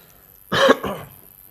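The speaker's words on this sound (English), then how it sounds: "About to cough real quick." A single close cough, a sharp burst followed by a softer second push, isolated against near silence.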